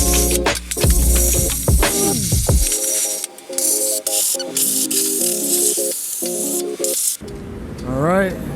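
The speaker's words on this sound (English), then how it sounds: "now that I sprayed everything with high pressure" High-pressure water spray cleaning a kitchen exhaust fan, a loud continuous hiss with harsh rattling bursts that cut in and out, while tonal whirring and clattering run underneath and a sweeping whine rises near the end.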